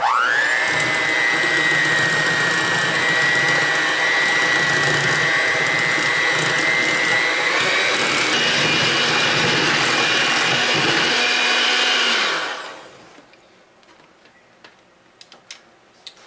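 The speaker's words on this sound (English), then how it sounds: "We'll just use the hand mixer and mix this really good." An electric hand mixer whirs loudly and steadily while beating lemon icebox pie filling, then cuts off near the end, leaving faint scrapes and clicks.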